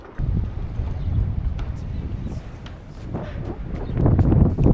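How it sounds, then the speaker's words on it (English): Wind gusting up to 35 knots in a Greek coastal town roars and buffets against the microphone, a low rumbling rush that swells and eases and grows strongest near the end. "It may not look that windy, but it's up to 35 knots when the gust comes through."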